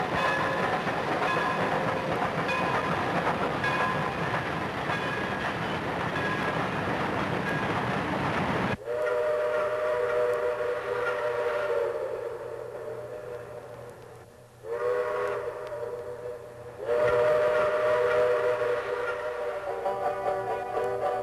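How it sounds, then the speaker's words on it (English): A small park ride train for children runs through a town-centre woodland, its steady rolling rumble and clatter continuous and fairly close, with no clear whistle standing out and no talking. "children are entertained by a ride on a small train"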